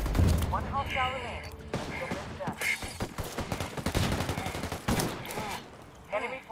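Heavy automatic gunfire in the video game Ghost Recon Wildlands, rapid bursts and scattered shots throughout, with voices speaking over the shooting.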